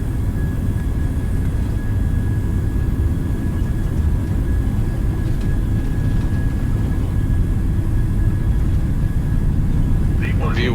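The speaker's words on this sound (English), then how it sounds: "Takeoff thrust set, indicators normal." Loud, continuous roar of Boeing 737-800 jet engines spooling at takeoff thrust in a flight simulator, a steady broadband rumble with a thin high whine throughout and a brief chirp near the end.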